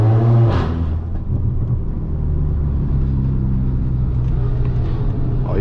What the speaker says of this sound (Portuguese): Olha o Jetão Stage 3, o bagulho faz barulho demais